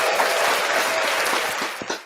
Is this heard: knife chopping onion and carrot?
no